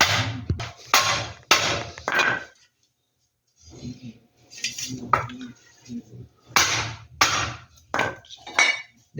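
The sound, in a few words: hammering a part into a Whirlpool top load washing machine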